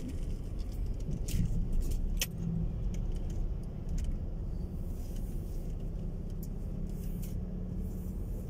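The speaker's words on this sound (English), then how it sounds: "I'm literally just giving a little drive through the shopping area." A car drives slowly through the Woodside estate shopping area in Dunstable, UK, giving a steady low road and engine rumble with light jingling and clinking on top, no talking.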